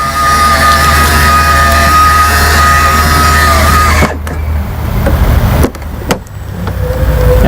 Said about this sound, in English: With the push of a button, that cord easily retracts back in.